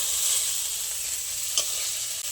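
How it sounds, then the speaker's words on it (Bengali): Spices sizzling steadily in hot oil with onion, garlic and tomato while cooking a soybean curry masala, a continuous close hiss with one brief scrape of stirring partway through and no voices. "আর পেঁয়াজ, রসুন, টমেটোর সাথে সব ভালো করে ভাজা হয়ে গেছে।"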